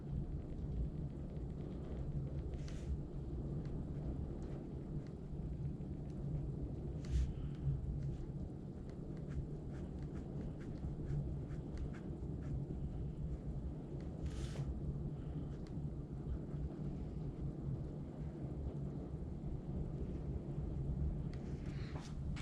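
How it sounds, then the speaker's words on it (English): Heavy rain pours steadily outdoors as a dense, low, even roar with faint distant thunder rumbles, muffled as if heard from indoors, with no voices. "I don't know if you guys can hear the rain outside, but it's coming down hard."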